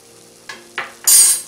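Spices for pav bhaji frying in a pan and stirred, with a few short scraping strokes building to a louder hiss near the end, close and without voices.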